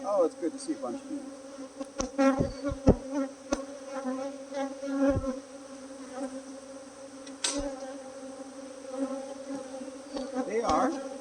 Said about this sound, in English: They are attempting to sting me.